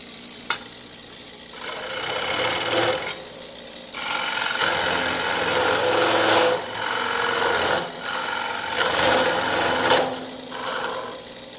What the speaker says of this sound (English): I do a micro grind on my bowl gouge, bottom bowl gouge.